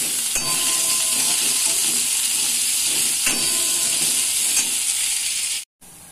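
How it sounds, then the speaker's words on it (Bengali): Potatoes and green chillies frying in a pan give a steady, dense hiss and sizzle, close and constant, with a couple of faint stirring clicks, cutting off abruptly near the end. "এখন আলু আর কাঁচা লঙ্কা ভেজে নিচ্ছি"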